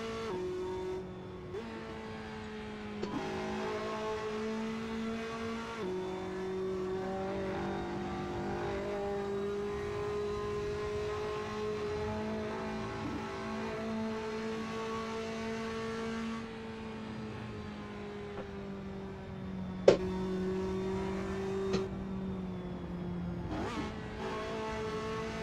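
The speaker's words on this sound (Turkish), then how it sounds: "Arabanın sesi çok iyi değil mi ya?" A car engine in the racing video game Assetto Corsa drones steadily, revving up and down through gear changes, with a brief sharp knock partway through; no talking.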